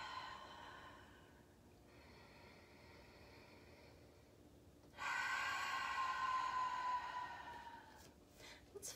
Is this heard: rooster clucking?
no